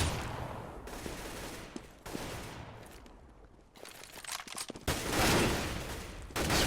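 M4A4 rifle fire crackles in a Counter-Strike match, rapid bursts of shots close by with brief pauses between volleys and a loud, dense burst late on.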